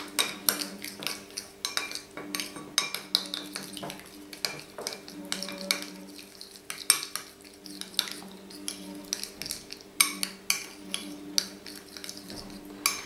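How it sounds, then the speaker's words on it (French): Homemade face scrub ingredients being mixed in a bowl, with rapid clinking and scraping of a spoon in a busy, continuous rhythm, close and moderately quiet. "il ne nous reste plus qu'à mélanger le tout"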